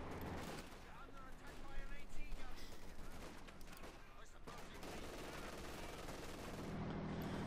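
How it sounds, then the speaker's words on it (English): Battlefield gunfire from Company of Heroes 2, with mortar blasts and rifle shots crackling in dense, overlapping bursts at steady loudness, building briefly to a louder flurry before settling into a sustained rumble. "Mortar fire, rifle fire"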